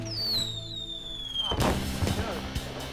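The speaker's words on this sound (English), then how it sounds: "The mortars contain and direct the blast from the lift charge, hopefully straight up." A firework shell fired from a mortar by its lift charge during a fuse test, heard as a single sharp, loud launch thump about midway, followed by a brief rumbling tail over a steady background hum.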